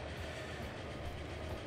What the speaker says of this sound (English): I'll kind of end it as we ride this train out of here